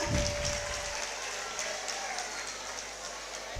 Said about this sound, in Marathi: जोरदार टाळ्यांचा आवाज आला पाहिजे ऑडियन्स एव्हरी वन